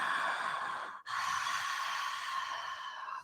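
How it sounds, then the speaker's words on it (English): A slow, breathy exhale drawn from the back of the throat in yoga practice, a soft sustained hiss that pauses briefly and then continues in a long, even second breath. "Build the breath from the back of your throat"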